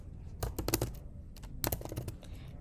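Fingers typing on a computer keyboard, with two quick bursts of clacking keystrokes separated by a short pause. The sound is close and crisp, with no talking.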